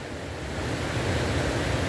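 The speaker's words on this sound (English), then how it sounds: "It's just a beautiful river." Water rushing steadily along the Tellico River at a trout fishing spot, a dense, even broadband wash that swells slightly louder partway through, with no voices.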